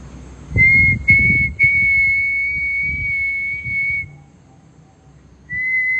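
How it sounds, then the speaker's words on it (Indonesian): Clear, steady human whistling inside an abandoned factory, a sustained high tone with a few brief breaks, then a quiet pause before another whistled note begins. "Aku mendengar kayak ada sebuah suara siulan yang sepertinya kayak saling bersautan dengan siulanku"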